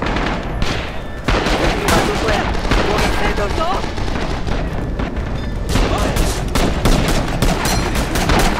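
Constant heavy gunfire and explosive booms fill a battle in the Rising Storm war game, with bursts and thuds packed close and loud throughout, and a grenade goes off among them, while a player's voice breaks in now and then.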